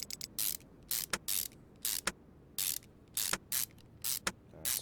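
Screws are driven into a clutch pressure plate in the Car Mechanic Simulator video game, heard as a string of short, bright hissing whirs in regular bursts, each separated by quiet gaps.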